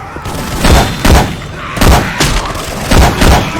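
Heavy gunfire from the video game Left 4 Dead 2 using Syphon Filter weapon sounds: a series of booming shot bursts, roughly five to six loud thumping blasts at uneven intervals, close and dominant.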